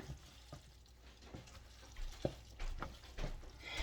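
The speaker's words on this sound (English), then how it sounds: "Let me give this another stir with that salt and pepper in here." Broccoli and noodles seasoned with salt and pepper sizzle and fry in a pan while being stirred, with soft scraping strokes and rising crackle, close and moderately loud, no voices.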